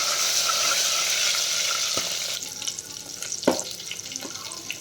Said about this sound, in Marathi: तर आपल्याला हा लसूण जरा गुलाबी कलरवर परतून घ्यायचा आहे.